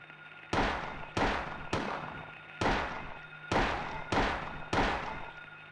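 Gunshots from the video game Silent Hill 1: six loud, sharp reports at fairly even intervals, each with a short decaying tail. Nothing else intrudes between the shots.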